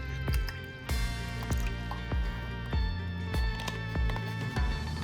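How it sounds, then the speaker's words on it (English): Water poured into a half-filled box-shaped container, a close, loud stream with rhythmic glugging splashes repeating roughly every half second. "I'm pouring in just half of the container with water."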